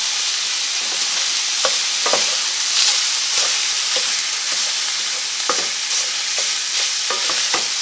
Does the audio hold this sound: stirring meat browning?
yes